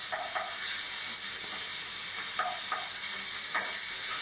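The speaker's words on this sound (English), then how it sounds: "The onion's diced, the garlic's sliced, and we're just going to saute that" Diced onion and sliced garlic sautéing in a pan, a steady close hiss of frying with soft periodic stirring scrapes, no voices.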